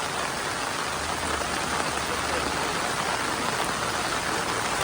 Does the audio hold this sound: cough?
no